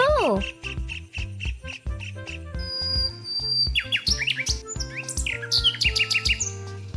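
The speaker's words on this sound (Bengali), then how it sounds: "তুমি কি পাখিদের কিচিরমিচির শুনতে পাচ্ছ?" Small birds chirp and tweet in quick bright bursts, often several at once, set among a steady run of plucked musical tones rather than heard alone.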